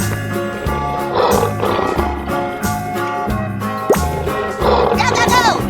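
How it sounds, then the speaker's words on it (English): A lion roars in a cartoon animal transformation, several growling roars layered over a busy musical backing, with a sharp accent partway through. "Lion."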